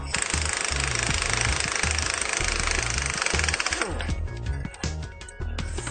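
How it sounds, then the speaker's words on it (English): A power tool rattles loudly and continuously up close as it zips nuts off the rear U-bolt on an RV axle. The hammering chatter eases near the end into a few irregular bursts. "So I'll take these nuts off here first."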